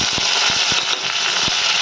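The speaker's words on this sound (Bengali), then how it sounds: "চালটা দিয়ে একটু ভাজা ভাজা করতে হবে।" Bhog rice frying in a pan with potatoes and spices, a dense, loud, continuous sizzle close up, dotted with small clicks and taps as the grains are stirred.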